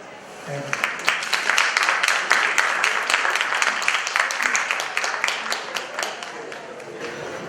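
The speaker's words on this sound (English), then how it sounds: "a huge round of applause for Dr. Apurva Thandai for that serene rendition of poems and haikus" After a recital of poems and haikus, an audience breaks into dense, sustained applause of many overlapping claps, loud and close, tapering slightly toward the end.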